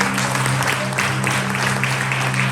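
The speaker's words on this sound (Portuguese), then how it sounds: "Se você pode, dê um forte aplauso ao Senhor." Church congregation clapping in praise, a steady wash of applause from many hands over a low background hum, fairly close and continuous.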